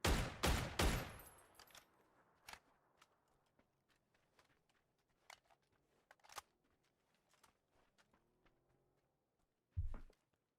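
Sparse gunshots in the battle royale shooter PUBG: two loud close shots at the start, then scattered distant cracks and clicks, and one more sharp shot near the end, with no talk.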